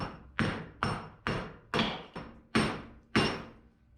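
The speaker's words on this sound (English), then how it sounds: "Tune that baby up with a hammer." Eight sharp metallic hammer blows strike an aluminum truck box panel in a steady rhythm, each ringing briefly before fading, close and fairly loud.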